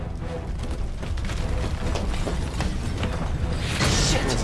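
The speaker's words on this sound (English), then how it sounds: "Some blown to smithereens." Explosions in the video game Resident Evil 2, a dense continuous rumble of booms, pops and mechanical clatter, loud and close, swelling slightly toward the end.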